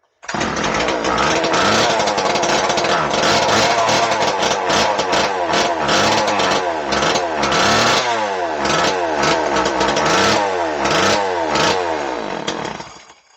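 A Homelite Super 2 chainsaw's small two-stroke engine runs loudly and close, idling with a rough putter, then repeatedly revving up and dropping back in rising and falling sweeps.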